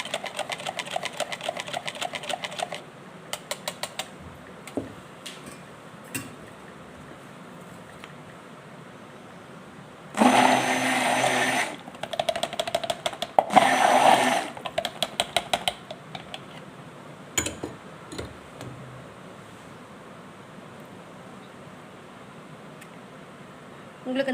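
A blender mixes fragrance into charcoal soap batter in two short, loud bursts of whirring, with a voice talking before and between them.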